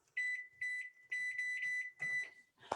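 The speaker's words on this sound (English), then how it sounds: "I'm also gonna set my timer because I'm gonna talk and forget" Beeps from a kitchen timer being set in a home kitchen while grains are prepared, a run of short, bright electronic tones repeating in quick bursts, close and fairly loud, with a brief clatter at the end.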